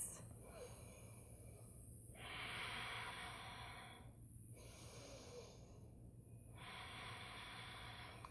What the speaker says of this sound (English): 3 deep breaths.